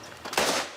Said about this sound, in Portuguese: soldiers of the CHOC, the elite unit, carry out shooting exercises